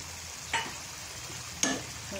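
Crushed garlic frying in a pan while mackerel curry is being made: a low, steady sizzle broken by two short bursts of stirring or scraping against the pan, with no talking.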